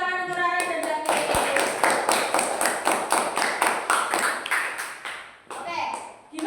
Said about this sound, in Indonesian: Beri tepuk tangan untuk Rara dan Zaki.